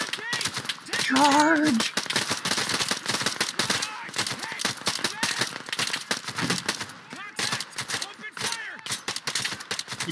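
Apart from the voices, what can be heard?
gunfire in a video game (Operation Harsh Doorstop)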